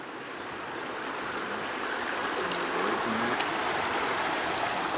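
Creek water runs steadily at a gold panning site, a continuous broadband rush that swells slightly and holds even, fairly close, with no talking.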